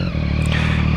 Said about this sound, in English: but the exhaust sounds pretty good.